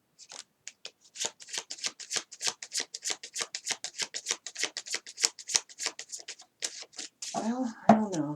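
Tarot cards shuffle in a rapid run of crisp riffling flutters close by, followed by a voice speaking at the end.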